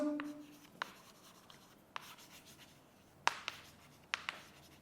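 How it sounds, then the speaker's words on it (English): Writing during an English grammar lesson, faint scratchy pen or chalk strokes arriving in short separate ticks and scrapes, close and quiet with no talk. "let's write"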